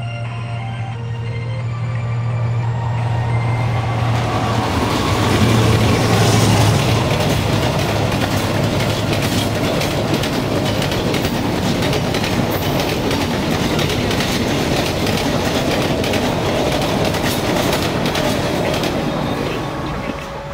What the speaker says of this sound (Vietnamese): Một chiếc tàu đang tới.